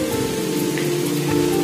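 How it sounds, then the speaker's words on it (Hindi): Light drizzle patters on a surface in a steady, even hiss that runs through the whole short stretch with no voices. "रिमझिम वर्षा होछे, बहुत रोमांटिक फॉग हेछे।"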